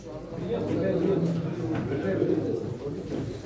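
Pigeons coo in low, soft throaty calls at a pigeon auction, heard close and continuous under a background of murmuring voices.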